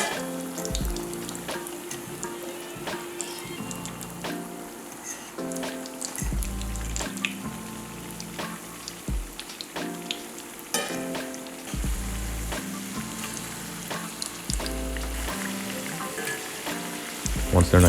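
Breaded potato croquettes fry in hot oil in a pan, a continuous crackling sizzle with scattered pops and some intermittent background thumps, steady and close throughout.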